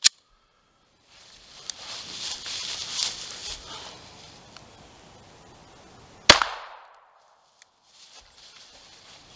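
A single sharp shot from a Remington Model 51 .380 pistol fired into wooden boards cracks loudly and briefly, ringing out after a stretch of quieter shuffling and background noise.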